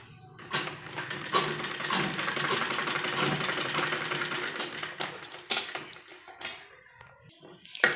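A sewing machine runs steadily, stitching fabric for a baby kurti top with frill sleeves, its mechanical whir continuous for several seconds and dipping briefly between short bursts near the end.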